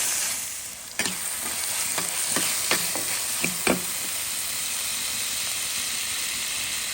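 Tomato and garlic fry in oil in a clay pot while being stirred, a constant close hiss broken by a string of scraping, knocking spoon strokes in the first half.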